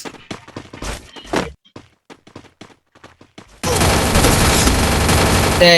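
Rapid gunfire from the Free Fire video game, a scattered run of sharp individual shots followed by a sustained loud burst of continuous automatic fire that fills the final seconds.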